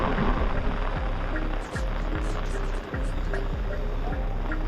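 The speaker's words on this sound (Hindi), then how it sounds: "यहाँ मैं पहुँच गई हूँ और बारिश हो रही है तेज़ एकदम" Heavy rain pours down at Humayun's Tomb in Delhi, a dense, close, continuous hiss with patters and splashes throughout.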